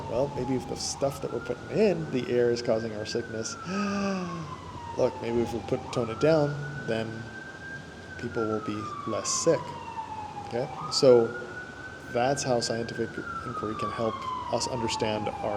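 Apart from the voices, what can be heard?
city sirens in the background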